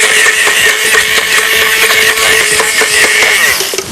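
A blender whirs loud and steady, puréeing ingredients for kimlo vegetable soup, a high buzzing motor churning continuously without pause for the whole stretch.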